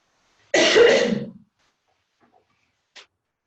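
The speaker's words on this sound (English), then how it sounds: "I have to cough." A single short cough close to the mic, then near silence with a tiny click a moment later.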